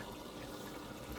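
An Aerogarden tabletop hydroponic pump runs with a faint, steady hiss of flowing water, quiet and continuous throughout with no other sounds.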